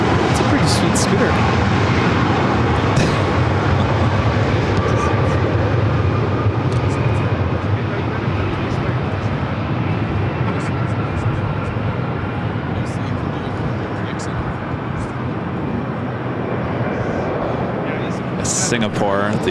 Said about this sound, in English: Singapore, the 777-300ER, heading back to Tokyo Narita, taking off there on the south side.